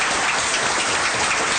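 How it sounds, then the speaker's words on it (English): An audience at a small-town general election candidates' forum claps in a dense, steady burst of applause, close and loud throughout. "Could we have a round of applause for our candidates?"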